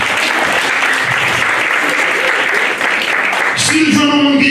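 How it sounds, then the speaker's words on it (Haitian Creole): A church congregation claps in sustained, dense applause for the full stretch, loud and close, with a tonal musical swell entering near the end. "Applaudis le Seigneur."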